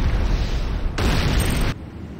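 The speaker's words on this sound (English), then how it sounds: "Nod airstrip destroyed." A structure explosion in Command & Conquer Renegade, a dense broadband boom that swells and holds for about a second before cutting off into a lower rumble, with no voices.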